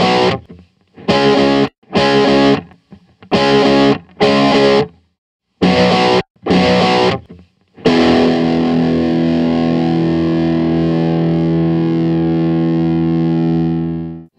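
Neo soul guitar loop from a Kontakt sample library, with distorted, effects-laden electric guitar: a series of short chopped chord stabs, then one long sustained chord ringing out and fading, loud and with no voices.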